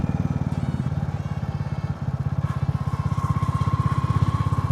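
A Royal Enfield Classic 350 single-cylinder motorcycle riding along, its steady thumping exhaust beat loud and close throughout with wind noise, no talking.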